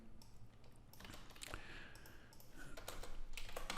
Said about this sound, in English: It can get quite painful typing this in every single time.